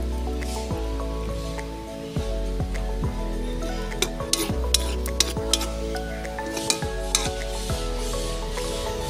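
Water spinach (kangkong) sizzles steadily in a frying pan for adobong kangkong with sardines, a constant loud hiss broken by regular stirring scrapes and occasional sharp clinks of a utensil against the pan.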